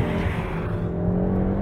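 A Peugeot 308 GTI pulls hard at full throttle, its engine a loud, steady, rising drone heard from inside the cabin, continuous and alone, with no voices over it.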